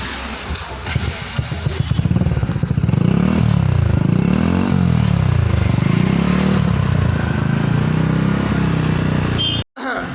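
A motorcycle with a modified silencer is self-started, sputtering briefly before settling into a loud, steady close-up idle with a throbbing, uneven exhaust beat, then cutting out abruptly near the end.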